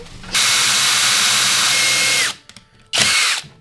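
A power drill whirs loudly for about two seconds into a stud under a sofa on a houseboat under construction, stops, then starts again for a shorter burst, up close.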